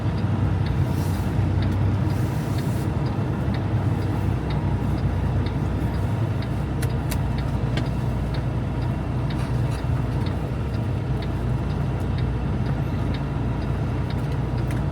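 A truck engine strains steadily in a roadside ditch near a culvert pipe, a loud continuous low rumble with faint ticking over it.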